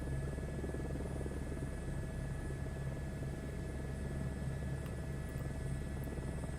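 An Airbus H-125 turbine helicopter in flight gives a continuous, steady rotor and turbine drone, close and even throughout, with no talking.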